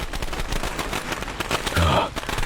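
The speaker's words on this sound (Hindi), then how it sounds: "उसमें से पटाखे की आवाज आने लगी" Firecracker bangs burst from a burning doll, a dense crackling rattle of rapid pops running throughout, with a louder thump near the end.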